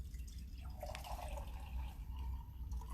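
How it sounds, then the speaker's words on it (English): Water trickles and splashes into a jar as it is filled about halfway, a faint, soft pour lasting a few seconds with no talk. "you're going to want to fill it up just about halfway with water"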